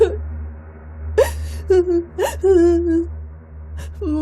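A young child of about four or five years old cries inside a bungalow, with halting whimpers and drawn-out wailing sobs that rise and fall in several bursts, close and fairly loud.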